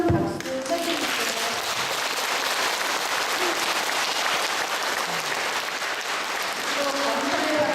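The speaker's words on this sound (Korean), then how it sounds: "김성수 마르고 신부님께 큰 박수 쳐주십시오" Audience applause for a priest after a Lenten lecture in a church, a steady, full burst of clapping from a seated crowd that lasts the whole stretch without a break.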